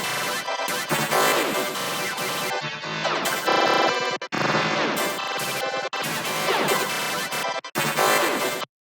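A second Glitch 2 plugin preset gives a dense, harsh glitch texture of gritty stuttered noise. Loud and sustained, broken by a few abrupt dropouts, with no talking, and it cuts off suddenly at the end.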